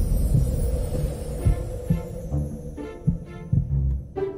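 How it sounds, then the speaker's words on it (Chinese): A human heartbeat, heard as a doctor listens, thuds as a steady rhythmic series of soft low beats, roughly two per second, over a faint hum. "是人的心跳吗？"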